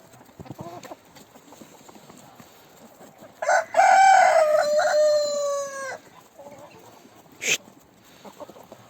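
A rooster lets out one loud, drawn-out crow at close range, followed by a short sharp squawk, with quiet scuffling sounds before and after.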